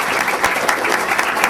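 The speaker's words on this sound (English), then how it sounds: "Can we give a round of applause?" A panel audience breaks into applause, a dense, steady clapping from many hands in a room, loud and sustained through the moment with no voices standing out.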